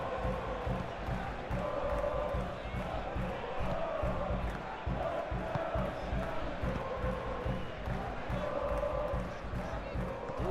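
Crowd noise swells steadily from a stadium in a football video game, a broad dense roar that holds for about ten seconds with rhythmic stamping pulses beneath it.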